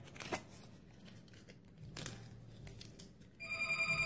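A telephone starts ringing near the end, a clear electronic trill after a few seconds of crinkling and light handling noise during a UV gel nail removal session, with no speech.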